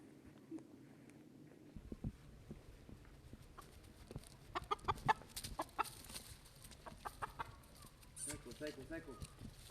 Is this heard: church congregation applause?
no